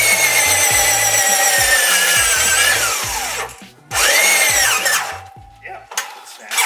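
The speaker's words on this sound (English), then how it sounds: "Because the drill's about to die." A power drill bores out a bolt hole on a third-generation Toyota Tacoma TRD Offroad, whining loud and close in long pulls with its pitch sagging under load, stalling briefly and starting again, with a voice speaking faintly underneath.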